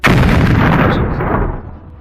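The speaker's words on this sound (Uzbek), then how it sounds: "Mana o'sha intervyu bo'layotgan paytda orqa tomonda yana bir portlash yuz berdi." A loud explosion from a blast in Tashkent booms close by and rolls off into a fading rumble over about two seconds, with no talk.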